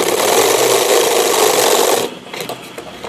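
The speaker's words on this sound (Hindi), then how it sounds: "इसके बाद इसे आपने यहाँ सिलाई लगा देना है" A sewing machine stitches a fabric sleeve seam in one continuous, close whirring run that stops abruptly after about two seconds, leaving faint handling noises.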